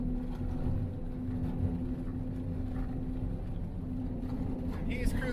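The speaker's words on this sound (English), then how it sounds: "this is what 30 miles an hour on tracks looks and feels like" A Snow Jeep on tracks cruises at about 30 mph over hard-packed snow, giving a steady low engine drone and a constant hum with rumbling track noise underneath.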